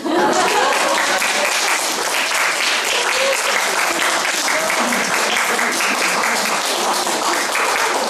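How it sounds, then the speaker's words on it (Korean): Dense, steady applause from a lecture audience fills the room for eight seconds after a speech by a city mayor on childcare policy, loud and continuous with many hands clapping at once. "이 대목에서 박수 쳐요."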